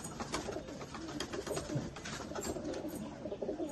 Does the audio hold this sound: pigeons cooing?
yes